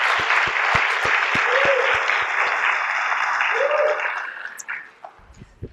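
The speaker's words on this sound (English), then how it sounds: "Let's have another round of applause for our performers." Steady applause from an audience for performers at a 2018 CDC Autism Acceptance Month event, clapping loudly for several seconds before tapering off and fading out near the end.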